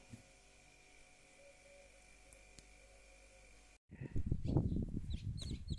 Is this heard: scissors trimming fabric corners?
no